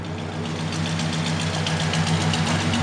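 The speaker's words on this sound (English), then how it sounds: "Give her a couple of revs there, that 472. Dual Magnaflow exhaust." A 1969 Cadillac with a 472 V8 idles after a cold start through dual Magnaflow exhaust, giving a steady, close, deep rumble with a slightly uneven beat and no voices over it.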